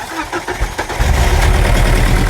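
A BMW engine abandoned for five years cranks with a quick rhythmic churning, then catches and fires into a loud, steady idle that rumbles close to the microphone.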